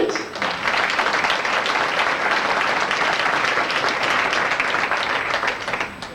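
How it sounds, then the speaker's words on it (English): A banquet audience at a 1993 St. Louis auto racing fan club awards dinner gives sustained, dense applause that stays loud and steady for the whole stretch, with no voices rising above it. "Let's give you a round of applause, please."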